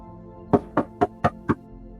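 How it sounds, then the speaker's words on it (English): Five firm knocks on a door, evenly spaced at a steady rhythm, close and distinct against a quiet background. "You hear a knock at the door."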